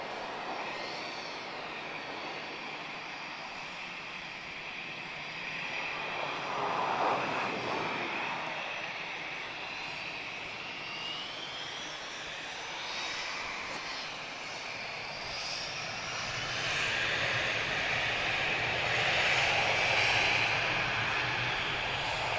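An Airbus A320-232 airliner lined up on the runway at Lisbon Airport, engines running in a steady distant roar with a slight swell and fade, heard alone.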